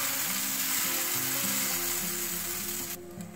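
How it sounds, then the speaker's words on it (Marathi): Jowar and wheat flour batter sizzling on a nonstick tawa, a dense close hiss with a low hum underneath that drops away just before the end. "यावर आपल्याला जे बॅटर आपण तयार करून घेतलेलं आहे ते टाकायचंय आणि थोडंसं पसरवून घ्यायचंय।"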